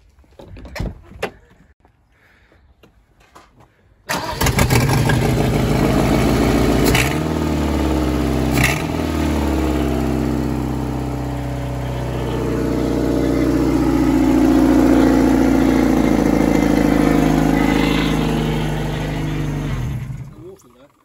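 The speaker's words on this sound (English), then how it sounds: "We've actually got the engine to run now" A Ford Escort Ghia Cabriolet engine starts with a clunk and keeps running loudly, idling with a steady low rumble that swells and eases, close by.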